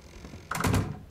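In Ark: Survival Evolved, a log cabin door swings shut with a single close thunk and a short latching rattle, heard alone against quiet game ambience.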